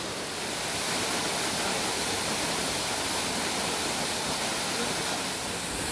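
The monsoon waterfall at Malshej Ghat roars in a dense, steady wash of falling water, loud and close, filling the whole clip without a break and with no voices heard.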